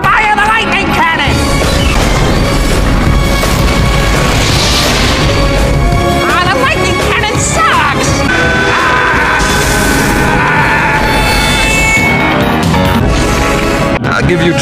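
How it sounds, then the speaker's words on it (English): A loud, chaotic cartoon barrage of booming blasts and crackling zaps from a lightning cannon firing in The Venture Bros., layered with music and excited voices throughout. "Fire the lightning cannon!"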